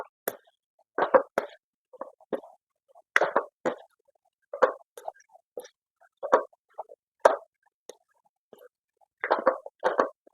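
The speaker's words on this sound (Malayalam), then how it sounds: "ഇനി നമുക്ക് ഇതൊന്ന് നന്നായി ഇളക്കി യോജിപ്പിക്കണം." Soya chunks are stirred in a pan, making soft, irregular wet plops and scrapes in scattered bursts, close and quiet with no talking.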